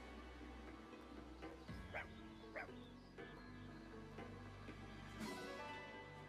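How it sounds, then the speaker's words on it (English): A dog in the Fire Emblem Engage video game gives a few short barks and yips spaced a second or so apart, over steady game music. "adopt a dog!"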